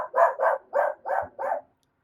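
A dog scared by close lightning during a severe thunderstorm barks five times in a quick, even series, each bark loud and close, followed by silence.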